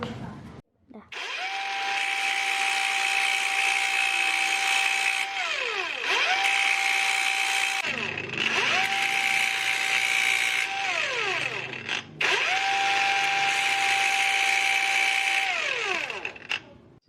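An angle grinder grinding down a Kawasaki Binter Merzy cylinder head part, its loud whine spinning up and winding down across four separate passes.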